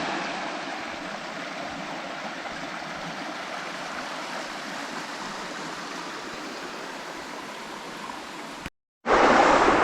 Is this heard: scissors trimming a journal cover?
no